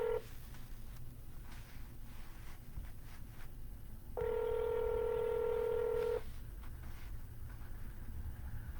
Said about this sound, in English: Gonna dial for about 10 more minutes in this live session.